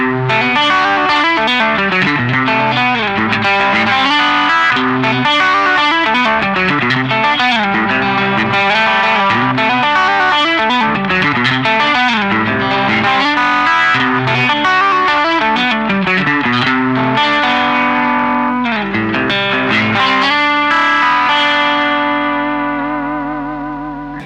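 A heavily effected electric guitar plays a melodic riff, chorused and distorted with echo, loud and continuous before ringing out at the end.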